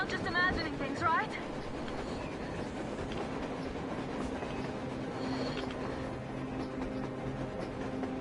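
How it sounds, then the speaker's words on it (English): A train rolling past in Metro Exodus, a steady rumble with faint clickety-clack of wheels; people talk over it throughout. "A train! A damn train on the surface!"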